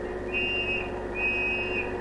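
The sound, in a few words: police whistle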